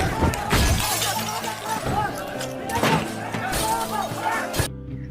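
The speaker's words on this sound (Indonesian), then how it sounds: "Mereka juga memecahkan kaca-kaca pintu" Glass door panes are smashed by a mob in an Indian film scene, with repeated crashing, shattering hits over loud music and voices until the sound cuts off abruptly.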